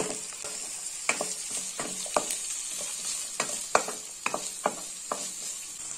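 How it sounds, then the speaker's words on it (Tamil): Two chopped medium onions sizzling and frying in melted butter in a pan, a steady close hiss broken by repeated sharp clicks and scrapes of stirring. "ரெண்டு மீடியம் சைஸ் பெரிய வெங்காயத்தை கட் பண்ணி இதல நான் சேர்த்திருக்கேன்"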